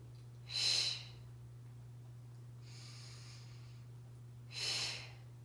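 Two soft, breathy airflow swells a few seconds apart, with a fainter one between, from a person doing deep belly breathing in a core breathing exercise, close and quiet over a steady low hum, no talking.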